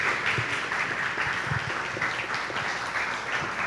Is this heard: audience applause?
yes